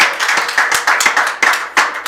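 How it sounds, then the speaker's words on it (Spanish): A church congregation claps together in a steady, loud run of sharp hand claps, repeating quickly and evenly throughout with no talking over it. "Denle un aplauso a Cristo."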